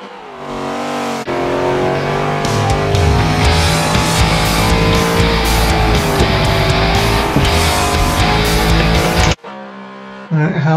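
Chevrolet Corvette C5 Z06 in Forza Motorsport 7 oversteering through a corner, its engine roaring loud and steady at high revs with tire squeal, then cutting off abruptly near the end before a short quieter stretch.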